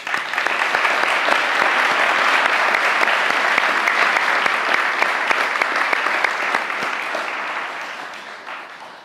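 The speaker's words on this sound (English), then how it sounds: "Congratulations to all of our finalists and winners, and thank you for making this work. One more round of applause." Audience applause fills a corporate annual meeting hall after finalists and winners are congratulated, a dense, steady roar of many clapping hands that holds loud for most of its length before starting to fade near the end.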